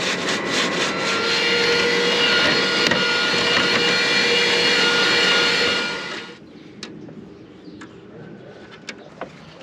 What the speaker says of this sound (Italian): Con il ventilatore acceso che butta fuori l'aria, andiamo a levare anche la polvere da qui.